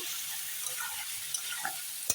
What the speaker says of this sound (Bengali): সোয়াবিনটা আমি সুন্দর কষিয়ে নিচ্ছি লবণ দিয়ে দিলাম স্বাদ মতো